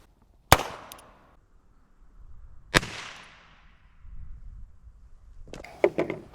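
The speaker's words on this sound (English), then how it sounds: "Up first, we've got a 22 long rifle out of a Ruger Wrangler." A .22 Long Rifle round fired from a Ruger Wrangler revolver into 5 lb bags of flour: one sharp, fairly loud crack with a short echo, then a second similar report a couple of seconds later, followed by rustling and handling noises.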